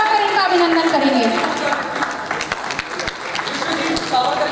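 Applause from a theatre audience welcoming an actor at a stage play, a dense wash of claps over a sustained tonal sound in the first seconds, steady and moderately loud with voices beneath.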